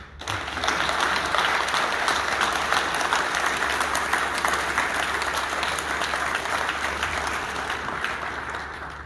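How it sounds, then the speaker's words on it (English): An audience applauds staff at a national president's event, a dense, steady wash of clapping from many hands that runs loud and unbroken throughout, easing only slightly toward the end. "I think they deserve a round of applause."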